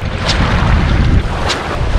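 Strong wind buffets the microphone on a beach at Bonbon Beach in Romblon, a loud, continuous roar with heavy low rumble and brief gusty surges.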